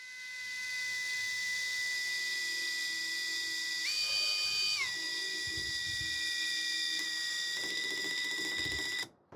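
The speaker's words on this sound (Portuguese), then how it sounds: "Torque acionado, não conseguimos cravar o parafuso 4x40 na madeira pinos." A Hanabi drill on speed 1, torque setting 1, drives a 4x40 screw into pine wood and stalls: a steady high motor whine with a rising pitch shift near the middle, running continuously before cutting off at the end.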